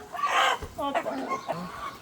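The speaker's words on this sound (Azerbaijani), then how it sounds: "toyuqlar öz narazılığını bildirir" Several Australorp chickens cluck and squawk close by in a short, agitated burst of calls.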